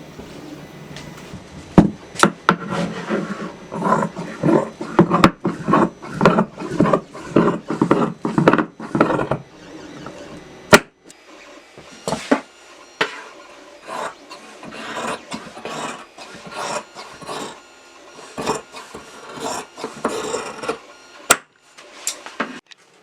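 Fabric pattern pieces for a sci-fi bomber jacket are cut with scissors, giving close, repeated rasping snips and rustling of cloth in quick rhythmic bursts, alone without talk.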